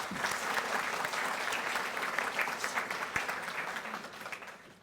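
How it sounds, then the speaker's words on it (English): Sustained applause from a large audience, a steady dense patter of many hands clapping that fades slightly toward the end. "another round of applause for McEllen"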